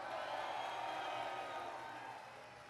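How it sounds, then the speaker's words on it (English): Applause and crowd cheering at an Obama rally in Detroit, a steady loud wash of clapping from a large audience that holds throughout and fades slightly at the end. "Give her a big round of applause"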